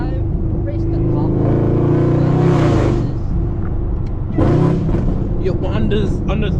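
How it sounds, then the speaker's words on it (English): A supercharged 800 hp Camaro ZL1 rumbles loudly from the cabin, its engine note rising and then dropping as it downshifts from third to second with a surge around mid-clip, while people talk over it. "You on the third to second gear downshift, you hear that supercharger."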